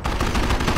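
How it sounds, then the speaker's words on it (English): Dense, continuous gunfire from a wartime siege battle in Company of Heroes (2006), with overlapping rapid bursts and shots forming a loud, unbroken barrage. "Base is taking fire."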